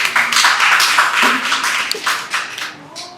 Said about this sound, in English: Clap for yourself again.